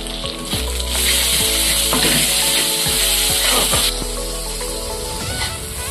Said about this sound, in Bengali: ভালো করে মশলা কষিয়ে নেব।